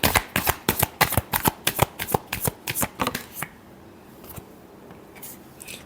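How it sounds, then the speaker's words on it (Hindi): Tarot cards are shuffled in a rapid rhythmic series of crisp riffling snaps for a few seconds, close and loud, then stop into quiet. "Last shuffle."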